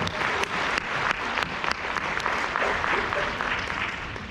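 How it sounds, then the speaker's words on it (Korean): Seminar audience at a resort in Cheonan claps together in a steady, dense burst of applause that fills the room at a fairly constant level throughout. "박수 한번 쳐주시죠."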